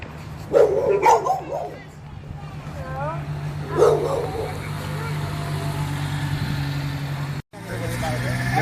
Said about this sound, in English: ferocious dogs over here